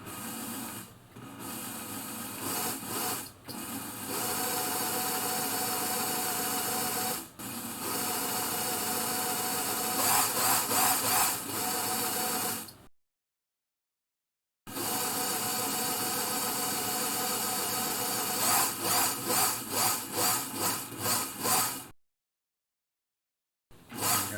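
Elna Air electronic sewing machine, 50th Jubilee model with a faulty zigzag mechanism, running at slow speed as a steady close mechanical whir with rhythmic ticking, stopping twice briefly before restarting.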